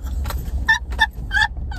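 A farm fowl on a rural farm gives several short, sharp clucking calls in quick bursts, close and fairly loud over a low rumbling background.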